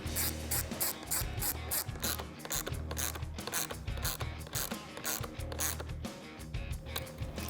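A ratchet clicks rapidly and repeatedly while tightening vent lighting tabs inside a Jeep Wrangler JL, a close, continuous run of sharp metallic pawl clicks with brief uneven pauses.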